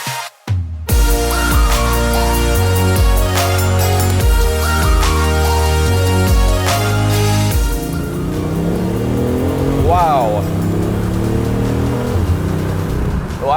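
A BMW i8 hybrid supercar drives hard, its engine note loud and continuous with stepped rising pitch through several gear changes, then a swooping acceleration whine near the end, close and alone.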